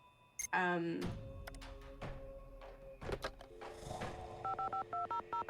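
Telephone dialing in the Nancy Drew game White Wolf of Icicle Creek: handset clunks and shuffles lead into a rapid run of short, evenly spaced keypad tones near the end.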